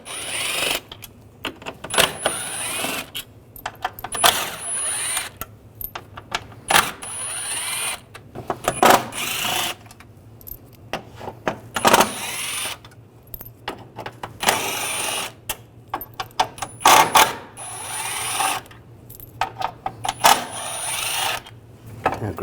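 A T30 socket removes panel bolts on a 2009–2010 BMW 535i xDrive with the 3.0L inline-six, giving repeated short clicking ratchet bursts and metallic clinks separated by quiet gaps, close up and with no talk.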